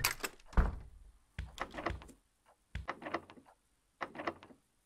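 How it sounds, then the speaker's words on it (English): Repeated clunks and rattles of a locked door handle being tried in the horror game Tear Factory, four short bursts of jiggling thuds separated by brief silences, close and fairly quiet. "Locked door."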